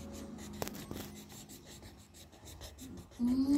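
A child colouring in a picture on paper at home, with faint, soft scratchy strokes and light rubbing over quiet room noise and background music, ending in a louder swell.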